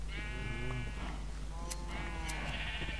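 Sheep bleat repeatedly in Minecraft, with several wavering, harmonic calls spread across a few seconds over a steady low in-game background hum.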